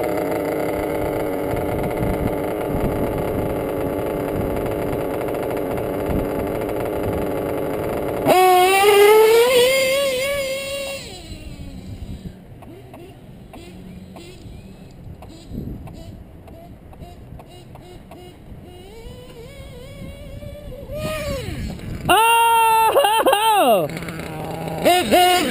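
A radio-controlled car with a .28 nitro engine: a high-pitched buzzing engine holds a steady drone, then screams through sharp revs and rising, falling pitch sweeps, fades to a distant whine, and surges again near the end.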